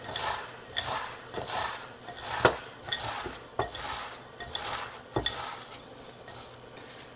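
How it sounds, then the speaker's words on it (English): Hot and spicy Doritos chips, about a handful, crushed very fine in a bowl, giving a series of sharp, close crunching and clinking impacts spaced irregularly over steady faint rustling, with no talk. "about a handful of hot and spicy Dorito chips, and we're gonna crush it very fine"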